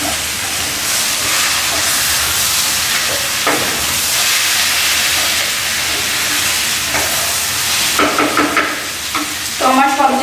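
Vegetables cooking in a pan on a home stove make a loud, steady hissing sizzle, and near the end a few clattering stirs and scrapes sound close by.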